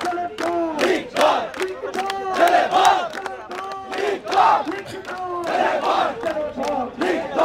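A large crowd of Dhaka College students chants slogans in loud rhythmic unison at Dhanmondi 32 in Dhaka, with repeated shouted phrases rising and falling close by.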